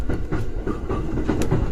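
A JR Musashino Line train, the Musashino service on the Ōmiya branch, crossing a track switch, heard from inside the car as a close, continuous rumble with irregular clicking and clacking over the rails.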